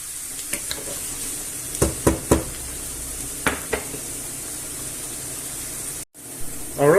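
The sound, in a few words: onion and garlic browning in a pan, extractor fan running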